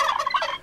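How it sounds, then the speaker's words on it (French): A turkey gobbles in a comedy advertisement, a short loud burst of rapid warbling calls lasting under a second, close and clear with no talk over it. "c'est les dindes noires qui font ça"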